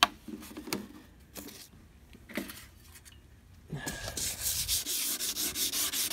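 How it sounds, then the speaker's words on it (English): Intermittent soft rubbing and scraping strokes on a faded headlight, sparse at first, then a steady, continuous wet sanding rasp with 2000 grit sandpaper close by with rhythmic swells. "Start off with the 2000 grit, wet sand it."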